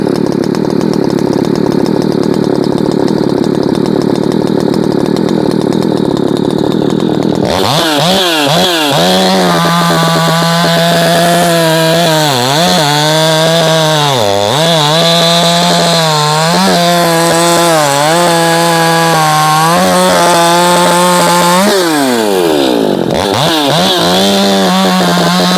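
A ported Shindaiwa 600SX chainsaw idles roughly, then revs to a loud, close scream and bogs repeatedly as it cuts wood, its pitch dipping and recovering under load.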